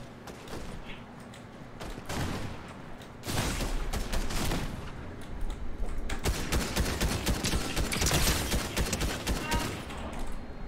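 Rapid gunfire in a video game, with several bursts and shots in quick succession that grow denser and louder toward the end, heard under noisy background activity.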